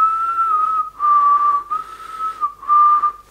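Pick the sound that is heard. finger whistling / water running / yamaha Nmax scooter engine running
finger whistling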